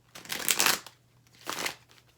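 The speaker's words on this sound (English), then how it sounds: "one more shuffle" Two close bursts of tarot cards being shuffled, a longer riffle followed by a shorter one after a pause, with a faint steady hum beneath.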